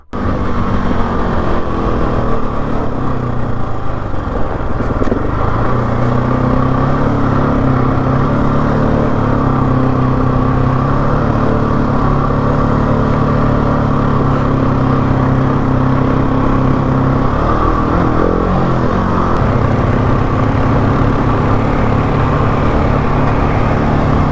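A Honda CRF motorcycle rides a trail in the Victoria High Country, its engine droning loud and close throughout with shifting revs and no talk over it.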